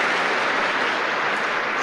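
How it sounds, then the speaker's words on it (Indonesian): A brief burst of audience applause in a seminar hall, a dense, even wash of clapping filling under two seconds with no speech over it. "tepuk tangan buat Anda"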